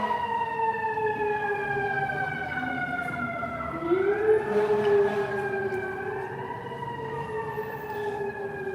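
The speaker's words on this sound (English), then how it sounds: "I love that sound of the siren." An emergency vehicle siren wails in long rising and falling tones on Broadway in Manhattan, New York City, fairly distant over faint street noise, shifting pitch partway through.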